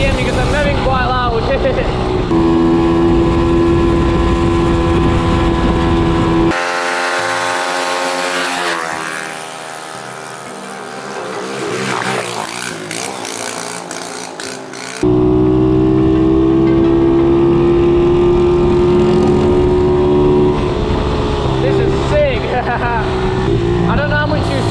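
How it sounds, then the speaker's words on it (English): A pit bike engine revs loudly while riding along a road, a strong buzzing drone that rises and falls in pitch, briefly dropping away mid-ride before roaring back up. "I don't even know if you guys can hear me because I'm revving quite loud."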